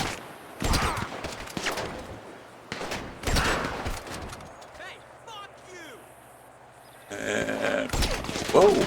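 Gunfire during the Cayo Perico heist in GTA Online, with sharp bursts of shots in separate clusters, a quieter stretch with chirping ambience between them, and a louder volley near the end.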